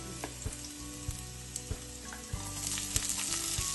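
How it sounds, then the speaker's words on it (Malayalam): Chopped ginger sizzles and crackles in hot oil for a Kerala-style fish curry, a steady close frying hiss with occasional sharp pops and light stirring knocks. "ഇഞ്ചി ഇട്ട് കൊടുത്ത് പിന്നെ എണ്ണയിൽ കടന്ന് നിൽക്കട്ടെ"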